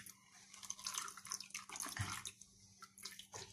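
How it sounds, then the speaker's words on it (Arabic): Vinegar trickles and splashes as it is poured over stored grape leaves, faint liquid pouring with small drips over a few seconds. "ونحط عليها خل عشان نكمل حاجتنا"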